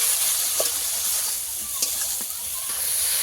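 Gupti flowers stir-fried in a pan after a splash of water, a steady close sizzle and hiss with a few soft scrapes of a spatula, no talking.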